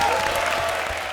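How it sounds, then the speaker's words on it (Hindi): Studio audience applause on a Hindi comedy show, a dense steady wash of clapping filling the whole moment at even loudness with no pauses. "जोरदार तालियां हमारे लिए।"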